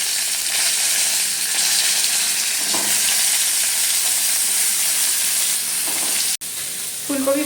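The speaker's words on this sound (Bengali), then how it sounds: "এই যে ফুলকপিগুলো একটু হালকা ফ্রাই করে নেবো" Cauliflower florets fry in a pan with a loud, continuous sizzle and hiss that runs throughout, broken by a brief cut near the end and faint clinks of stirring.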